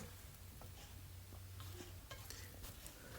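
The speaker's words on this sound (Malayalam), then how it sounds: "നന്നായിട്ട് നല്ല രീതിയിൽ മിക്സ് ചെയ്യണം" Chicken kondattam coated in masala is stirred around a pan, with soft scraping and light clinks of a spoon against metal over a faint steady sizzle, close and continuous, with no talking.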